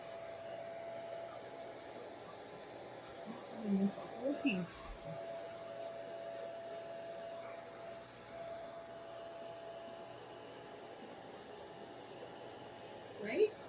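A hair dryer on its low setting runs as a steady, moderate airflow hiss throughout while hair is blown out from the scalp, with a few brief handling knocks and faint background voices.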